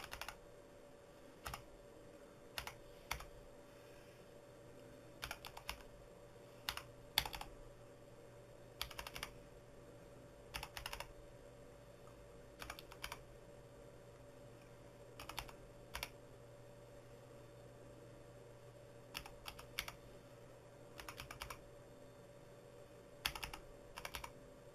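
Quiet bursts of computer keyboard typing as commands go into an HPE remote console, irregular clusters of soft close clicks separated by pauses over a faint steady hum.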